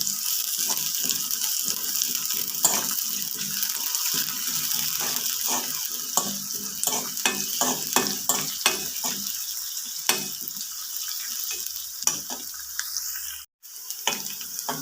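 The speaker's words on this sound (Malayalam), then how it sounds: "കറിവേപ്പില, ഇവയെല്ലാം ഒന്ന് ഇളക്കി കൊടുക്കാം." Curry leaves, garlic, ginger and green chilies sizzle in hot oil in a pan for Kerala-style lemon pickle, with steady frying hiss and repeated scraping stirs of a spoon, close and fairly loud, no talking.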